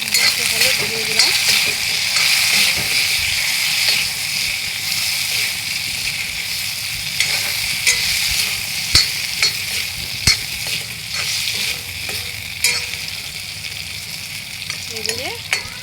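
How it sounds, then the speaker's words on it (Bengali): Potatoes fry in a pan with a steady, close sizzle, broken by occasional stirring scrapes and light clinks throughout, with no one speaking. "এদিকে আলুটা ভাজা হোক"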